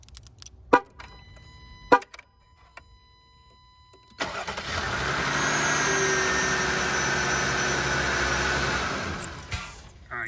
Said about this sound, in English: I'm going to use my remote start and see if you can hear the clanking here